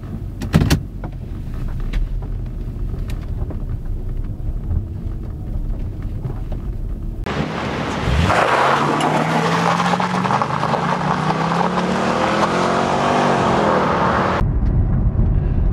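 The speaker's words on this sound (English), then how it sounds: "So we fire this baby up. Now let's take it for a spin, see what it's like." A Mercedes C43 AMG, 1999–2000 model, starts up and pulls away, its engine rising from faint clicks into a steady loud drone with a climbing rev sweep as it drives, then cutting off.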